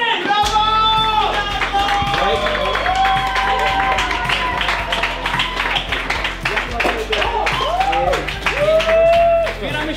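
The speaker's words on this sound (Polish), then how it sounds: "ostatnie brawa jeszcze dla naszych drugich głównych aktorów" Applause for the actors and film crew at the wrap of a Polish film shoot, a dense burst of clapping over steady music lasting throughout, with no speech over it.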